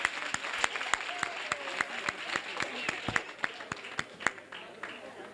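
Audience at a launch event against violence toward women and children clapping steadily, a dense run of close, sharp claps lasting the whole stretch, with faint voices underneath.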